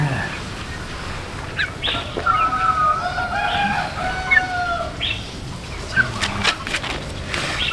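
Sick chickens in cold weather, some with diarrhea, cluck and call in drawn-out, wavering tones, with a few sharper clucks near the end over steady background noise.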